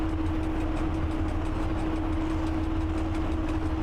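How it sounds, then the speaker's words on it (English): A locomotive running flat out in the train simulator Train Driver 2, a continuous heavy engine drone with a steady humming tone and rumbling wheels, unchanging and close, no talking. "it doesn't seem like this locomotive can do any more"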